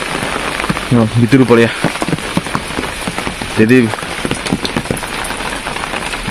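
Steady rain falls and drips in wet monsoon weather outdoors near a house, a continuous patter heard throughout with brief stretches of nearby talking over it.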